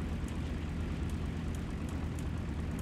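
PB4Y-2 Privateer aircraft engines in War Thunder drone steadily at low throttle, a constant loud broadband rumble with no distinct changes and no talking.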